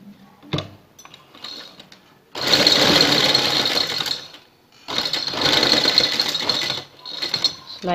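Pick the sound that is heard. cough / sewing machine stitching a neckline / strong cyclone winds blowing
sewing machine stitching a neckline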